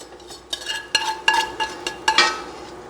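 A utensil scrapes and clinks against a pot while cooked bacon is lifted out for New England clam chowder. The knocks are close and repeated at an irregular pace, over a faint background sizzle.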